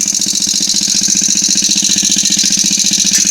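A long-stroke moped motor runs steadily while its kickstand rattles against it, giving a fast, continuous metallic chatter over the engine's drone, close and loud throughout.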